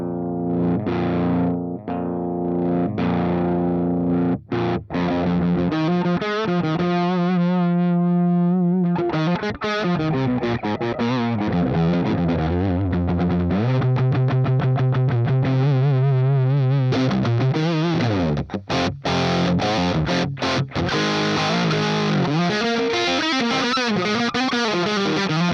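Electric guitar run through a Quad Cortex Brit TM45 amp model into a 4x12 Brit cabinet, playing loud, distorted chords and riffs with some effects, steady and close throughout with no talk.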